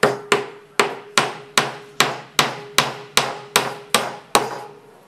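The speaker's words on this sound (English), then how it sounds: "I bought Nanai her own hammer." Eleven sharp hammer blows strike at a steady, even pace, each a crisp ringing knock on wood that decays quickly, close and loud with no voices.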